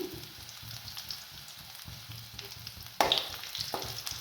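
Dried red chilies and garlic sizzle in hot oil, prepared for chicken pepper dry. A low, constant crackle runs throughout and swells into a sharper, brighter burst of sizzling near the end.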